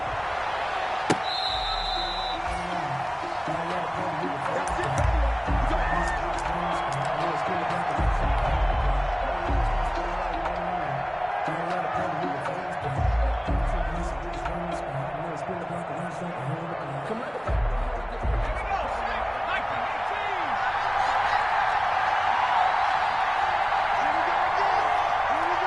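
A video game stadium crowd roars steadily before a Philadelphia Eagles versus Seattle Seahawks NFL game, a continuous dense cheer with a commentator talking over it.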